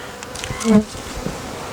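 Honeybees in a hive buzz as a frame is lifted out, a low drone with one bee passing close by in a brief louder rise, and no talking.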